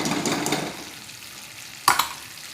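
Spices and a ground peanut paste for stuffed brinjal masala frying in a pan, with a soft steady sizzle and stirring, fading, then one sharp utensil knock against the pan.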